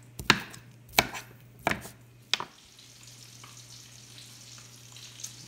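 Spam being chopped into little hunks on a board, four sharp knife knocks in the first half, then a quiet low hum with faint sizzling in the background.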